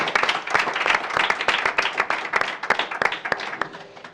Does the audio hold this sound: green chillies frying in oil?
no